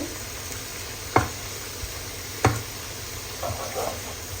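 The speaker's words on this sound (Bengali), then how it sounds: "এখন চিংড়ি মাছগুলো একটু এই সাইডে ভেজে নিব" Shrimp fry in mustard oil in a pan, giving a low, steady sizzle broken by two sharp knocks of a utensil and some faint scraping near the end.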